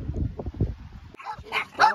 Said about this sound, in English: The dogs are liking the new jetty.